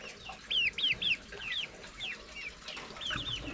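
Ten young chicks cheep and cluck in quick, repeated high-pitched bursts, fairly close and clear, with no talking.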